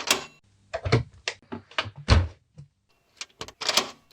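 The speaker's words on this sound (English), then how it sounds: "I'll open the door." A door is handled in a quiet indoor room, giving a run of short knocks, thumps and latch clicks in an irregular rhythm, close and fairly loud, with no talk over it.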